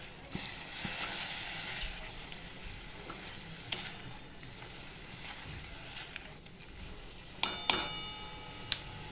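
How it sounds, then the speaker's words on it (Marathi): Paneer frying in ghee with a little chili in a kadai over high gas, a steady close sizzle and hiss with a few stirring scrapes and metallic clinks toward the end. "फास्ट गॅसवरती हे पनीर परतून घ्यायचं आहे आपल्याला। थोडंसं तिखट आणि तुपामध्ये पनीर परतवलं ना मंडळी"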